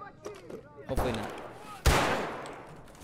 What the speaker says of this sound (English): I got shot at.